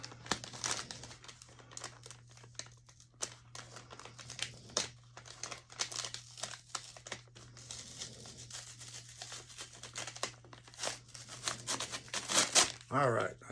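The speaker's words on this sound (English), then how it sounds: "If I can open it without ripping the sticker." Package being opened while trying to save its sticker, close, quiet paper crinkling and tearing in irregular bursts, with a louder rustle near the end.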